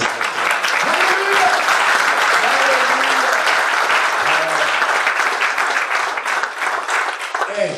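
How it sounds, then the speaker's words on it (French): A church congregation applauds and acclaims, with dense continuous clapping from a large crowd and voices calling out over it, loud and sustained throughout. "Je trouve qu'on acclame le nom de Jésus."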